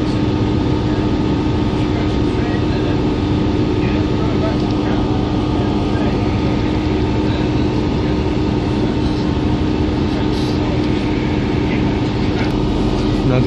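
A steady, loud rumble of a train pulling away from Deansgate station in Manchester, continuous rolling and engine noise with no pauses.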